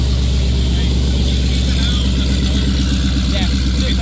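A Dodge Hellcat V8 with an aftermarket cam and headers idles loud and close, a steady lumpy rumble holding throughout with voices talking over it.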